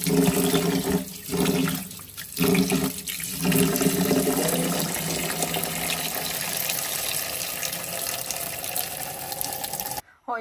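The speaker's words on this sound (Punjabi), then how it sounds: "ਅੱਛੀ ਤਰ੍ਹਾਂ ਚਾਵਲ ਧੋ ਲੈਂਦੇ ਹਾਂ," Rice rinsed under running water at a kitchen sink, a steady loud rush of tap water with splashing that briefly breaks up early and then runs on evenly before cutting off at the end.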